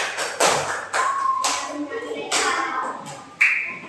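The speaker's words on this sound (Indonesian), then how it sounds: "beri tepuk tangan untuk kelompok 3" A primary school class claps for group 3 during a maths lesson, a handful of sharp, separated bursts of children's clapping spread over a few seconds, fairly close, with classroom voices mixed in.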